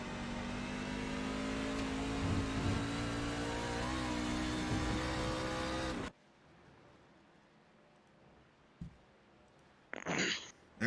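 Racing truck engines roaring around the track during a Bluegrass Truck Series race, a loud sustained droning pass for about six seconds, then near quiet with a brief bump and a short burst of noise at the end.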